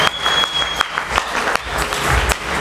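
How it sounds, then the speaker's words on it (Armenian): A crowd claps steadily for the grandparents at a family celebration during a toast, a dense, continuous patter of many hands with a few sharper individual claps standing out. "ժողովուրդը մեր պապիկների և տատիկների բարձր ծափեր նվիրենք"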